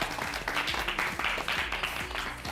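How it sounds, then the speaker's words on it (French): Audience applause on the French TV talent show Star Academy: a steady wash of many hands clapping for the full stretch, with music or tones running underneath. "Applaudissements s'il vous plaît."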